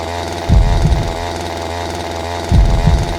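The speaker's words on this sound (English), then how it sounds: "The chainsaw's still going in this segment" Chainsaw from a survival horror video game revving loudly and continuously, with two heavy surges in its growl about two seconds apart, no voices over it.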